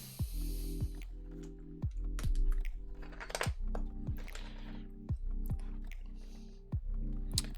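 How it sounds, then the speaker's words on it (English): Keycaps pressed one by one onto a mechanical keyboard fitted with Cerulean switches, a Rama Rose Tank build, giving sharp plasticky clicks in an irregular rhythm over a steady low hum, close up. "I'm just going to pop the keycaps on in the correct positions"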